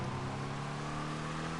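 A NASCAR race car engine in Grand Theft Auto 5 drones steadily at a constant pitch, a faint continuous hum without revving or pauses.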